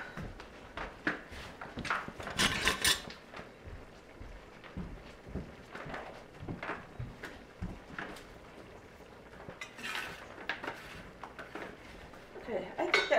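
A spoon clinks and scrapes inside a dish while something is stirred, producing irregular metallic taps and knocks, with faint background noise and a few voices.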